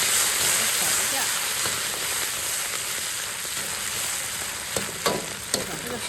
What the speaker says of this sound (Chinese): 开始炒了，加入油，咱们下入姜蒜、辣椒